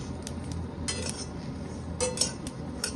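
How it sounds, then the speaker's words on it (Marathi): Peanuts roast in an iron wok on a stove, with light scraping and metallic clinks of a utensil against the pan, several sharper taps scattered over a soft background hiss. "त्या शेगडीवर लोखंडाच्या कढईमध्ये शेंगदाणे भाजणार आहे"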